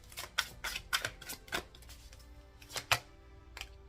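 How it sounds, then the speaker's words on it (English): Someone shuffles a deck of tarot cards by hand close by: a quick, irregular run of crisp riffles and soft slaps, quiet and without talk. "Let me shuffle."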